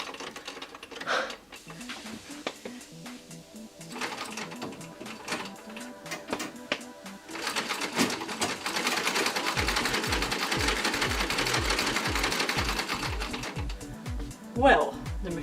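Singer treadle sewing machine, starting with scattered mechanical clicks and soft thumps, then running steadily with a fast rhythmic clatter that builds to a continuous whirring chatter near the end, close by with brief exclamations over it.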